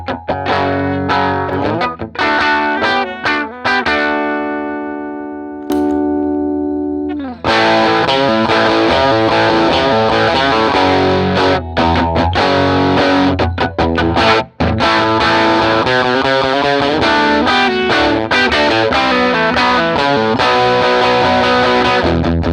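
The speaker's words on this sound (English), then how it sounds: "Now you notice an increase in volume as well as an increase in saturation and overall distortion, which makes the boost really killer with humbuckers" An electric guitar riff with humbuckers plays clean, a chord rings out, then a JHS Bomb boost pedal kicks in and the riff continues louder and more saturated and distorted, dense and sustained throughout.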